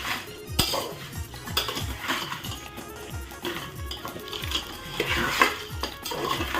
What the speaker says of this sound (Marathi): कंटिन्युअसली अशा पद्धतीने तुम्हाला हलवत राहायचं आहे म्हणजे आपले मसाले खाली लागणार नाही